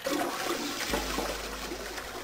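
A toilet being flushed in the video game Zero Escape 999, one full rushing flush that swells and then drains off with steady water noise, close and alone with no voices.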